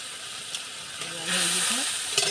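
Onions frying in a pan, turning red while cooking, a steady close sizzle with a brief stirring scrape partway through.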